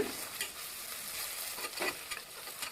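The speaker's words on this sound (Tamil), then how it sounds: "நம்ம எப்போதும் போல் கரண்டி வச்சுட்டு நல்லா வதக்கி விட்டுக்கலாம்" A ladle stirs ginger garlic paste sautéing in hot oil, a continuous soft sizzle with occasional scraping strokes against the pan, close and moderately quiet.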